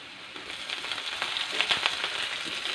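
Sliced green chillies and garlic sizzle and crackle steadily in hot oil, a close, continuous frying hiss for a lemon pickle.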